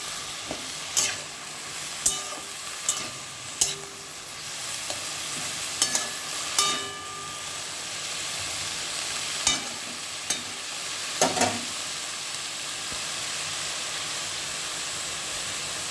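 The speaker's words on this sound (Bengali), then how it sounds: "এগুলো মাঝে মাঝে একটু খুন্তি দিয়ে নেড়ে নেড়ে দিতে হবে" Chopped bottle gourd frying in a pan with a steady sizzle and hiss, while a spatula scrapes and stirs at irregular intervals, producing sharp clanks and scrapes over the continuous frying noise.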